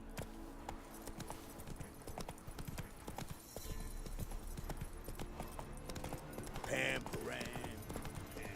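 Clip-clop of a horse galloping in The Witcher 3 video game, steady hoofbeats running throughout with a voice speaking briefly over it and a whinny-like call near the end.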